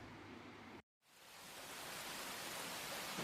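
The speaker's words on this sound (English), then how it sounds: "The rain's coming down." Rain falls at a campsite as a steady, broad hiss, cutting out for a moment and then returning just as evenly, faint and unbroken, with no voices.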